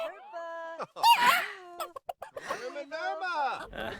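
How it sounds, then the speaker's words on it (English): Chickens cluck and squawk in The Sims 4 video game, a series of short, sharp bird calls and warbling cries scattered over a few seconds, close and clear with bits of game chatter mixed in. "And even after a failed attempt, Tyson is not giving up on bonding with some chickens."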